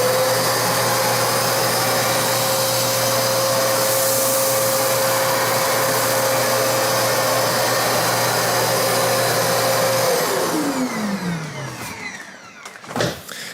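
A Shark Rotator Pet upright vacuum cleaner runs with a loud, steady motor whine and airflow roar for about ten seconds, then winds down as it is switched off, followed by a couple of handling clunks.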